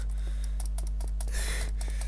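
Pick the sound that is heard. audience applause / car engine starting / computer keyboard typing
computer keyboard typing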